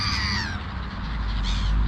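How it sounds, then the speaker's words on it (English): Crows cawing loudly and close by while feeding on walnuts and in-shell peanuts, a few harsh calls in quick succession over low background rumble. "And of course our crows are going after the walnuts and their peanuts in the shell."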